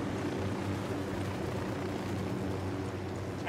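A helicopter in the Ghost Recon Wildlands video game, a steady close rotor drone with a low throbbing hum that holds constant throughout.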